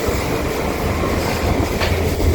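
A metro train in Russia rumbles loudly and steadily, with heavy low-end roar, clattering wheels and a brief metallic squeal midway, with no voices.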